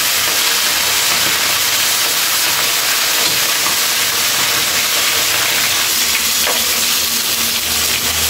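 Fish frying in hot oil in a home kitchen, a loud, dense, continuous sizzle and crackle of spattering oil that carries steadily throughout without any talking.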